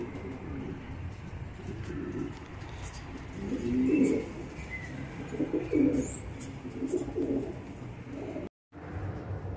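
A racing pigeon coos in soft, repeated low phrases close by, with a few faint chirps and light background noise.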